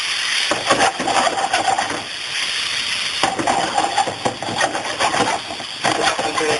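Pork pieces sautéing in a pan with parsley and garlic sauce, giving a steady broadband sizzle and scraping hiss throughout, with rhythmic stirring surges, close and fairly loud with no talk.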